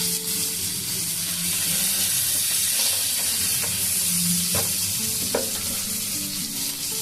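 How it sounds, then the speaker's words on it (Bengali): Chopped garlic goes into a pan of well-fried onions for an egg curry, giving a steady, loud sizzle and hiss with a few sharp crackles and stirring scrapes throughout. "পেঁয়াজগুলো দেখুন খুব ভালো ভাজা হয়ে গেছে। এখন দিয়ে দেবো রসুনগুলো।"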